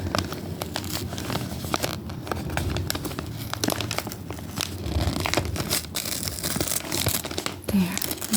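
Crinkling and crackling of plastic packaging as a sticker is peeled and a tiny handmade dollhouse is unwrapped, with close, irregular rustles and small tearing sounds throughout.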